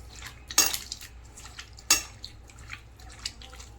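A metal spoon stirs prawns with turmeric and salt in a kadai, giving two sharp clinks against the pan and scattered soft scrapes and taps, with no talking.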